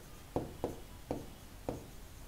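A pen writing on paper while working a class 6 math problem, heard as four short, quiet taps and strokes spaced irregularly over a faint background hiss.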